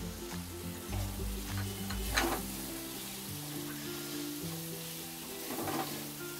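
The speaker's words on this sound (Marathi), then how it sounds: "1-2 मिनटं मी चांगले मक्याचे दाणे असे मसाल्यामध्ये हलवून जरा भाजून घेतलेले आहेत चांगले" Corn kernels stir-fried in spice masala in a pan for a Maharashtrian mixed vegetable dish, a steady soft sizzle with scraping stirring strokes, close and moderately quiet, with no talk.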